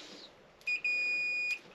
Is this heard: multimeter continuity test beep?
yes